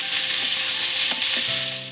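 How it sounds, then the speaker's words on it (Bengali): Green chillies and black cumin (nigella) fry in hot oil in a pan for a white potato curry. The sizzle is steady and close, with a few soft stirring scrapes. "লঙ্কা আর কালো জিরেটা এবার এতে দিয়ে একটু ভেজে নেবো।"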